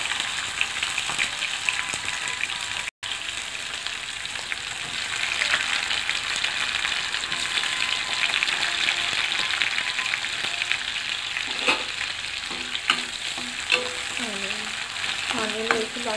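Onion fries in hot oil for a cabbage egg curry while being stirred, making a dense, continuous close sizzle with scraping and spoon clatter, and no voices.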